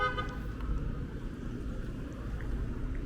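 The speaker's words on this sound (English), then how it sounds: "You sit here and wait for this traffic." Steady low traffic rumble on a Brooklyn street corner at Bergen Street in Cobble Hill, with a car horn tooting near the start over continuous engine drone; no talking.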